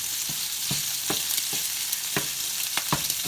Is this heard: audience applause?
no